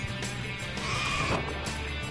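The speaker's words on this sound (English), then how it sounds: "Oh man, attack pigs." Attack pigs in the video game Far Cry 4 let out bleating, whinny-like squeals that overlap across a couple of seconds, over a steady low game rumble.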